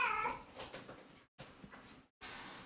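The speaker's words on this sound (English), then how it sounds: "My cat got stuck on something." A cat meowing after getting stuck on something, a faint strained wail broken into short bursts with brief gaps, heard at a distance.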